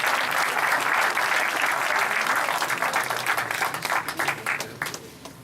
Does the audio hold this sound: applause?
yes